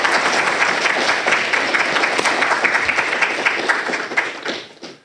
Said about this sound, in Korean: 큰 박수를 한번